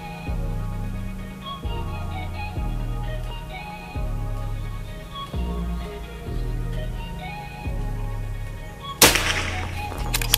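A Predator Tactical PCP air rifle, Pajero Gun Gen 5, fires Hercules ammunition once, a single sharp crack near the end over steady rhythmic background music.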